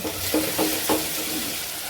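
A steady hiss of spices sizzling in hot oil for tempering toor dal, with a few soft stirring knocks close by.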